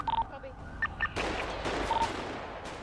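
Gunfire erupts in a GTA roleplay police shootout against a pursuing Sultan car, a burst of loud, dense shots and crackling impacts filling the middle and end, mixed with game tones and vehicle noise.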